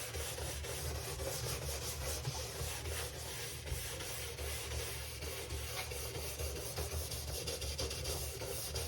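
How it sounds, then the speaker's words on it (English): Stiff brush scrubbing glide wax off the base of a Nordic ski, a steady, dense rasping swish that runs continuously at close range with no pauses or talk. "you could just go at the ski and just scrub it as hard as you can"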